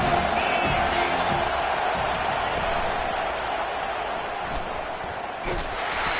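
Stadium crowd in College Football 25, a home-crowd roar that stays broad and steady throughout, dipping slightly midway, with a faint thump near the end.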